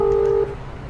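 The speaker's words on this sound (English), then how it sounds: "You quickly pull out your phone and call the apartment company." A single electronic keypad dial tone from a phone in the video game House Hunted 2, one clean, loud beep lasting under half a second before cutting off into quiet.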